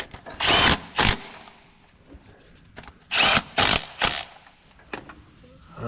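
Short bursts from a power tool tightening clutch bolts on a Scania G410 truck during on-site repair, several brief whirring runs close by with pauses between.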